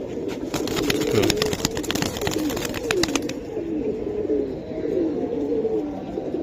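A female silver Giribaz pigeon and others coo in a repeated, rolling rhythm close by, with a rapid clattering rattle over the first few seconds before the cooing continues alone.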